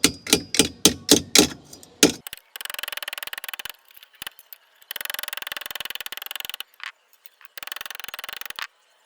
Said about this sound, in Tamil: வச்சு அடித்து சப்பட்டையாக்கணுங்க.